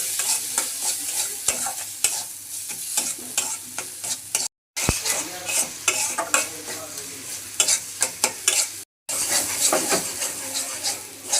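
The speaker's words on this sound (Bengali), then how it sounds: "মশলাটা কষানো হয়ে গেছে, এখন নামিয়ে নিচ্ছি" Spice paste with grated coconut, salt and turmeric sautéing in a pan for Bengali stuffed potol, steady close sizzling and frying with repeated scraping stirs, no voices.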